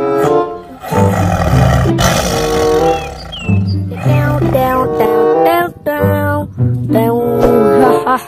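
A toy tiger gives out loud, repeated electronic roars in bursts with brief gaps, close and dominant throughout.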